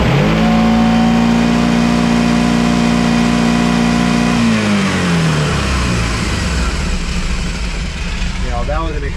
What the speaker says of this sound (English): now when I give it throttle